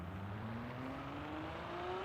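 A Ferrari engine drones steadily while driving in the racing game Forza Horizon 4, its pitch climbing gradually as it accelerates, with a continuous whirring tone and no talk over it.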